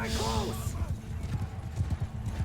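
Horses galloping in the medieval battle video game Bannerlord, a steady rhythmic clip-clop of hooves with a brief whinny at the start, heard under someone talking.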